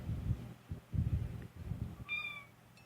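A house cat meows once, a short, clear, rising-and-falling call heard close up over low background rumble in a kitchen during hot-process lye soap making.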